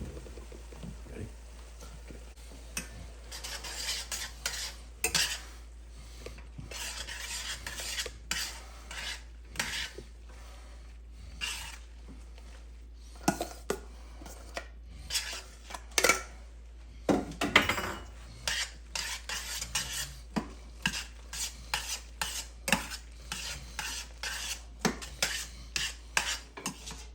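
Bucatini pasta is tossed and stirred with a carbonara egg mixture in a pan, giving soft scraping, rubbing and clinking strokes in irregular bursts, fairly quiet and close, with no talk.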